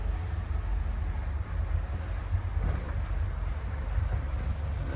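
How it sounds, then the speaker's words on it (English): The starboard Volvo D4 260 hp sterndrive diesel engine of a Sealine S38 boat idles in neutral with a continuous deep, close rumble and light hiss. "and the starboard engine."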